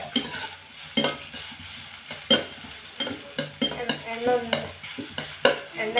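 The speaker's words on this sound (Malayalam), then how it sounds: "എണ്ണയൊക്കെ ചേർത്ത് മിക്സിലാക്കി ഒന്ന് അങ്ങോട്ട് വഴറ്റി കൊടുക്കും" Dried fish mixture sautéing in oil, a steady sizzle broken by repeated scraping stirs of a spoon against the pan, close and fairly loud with no talking.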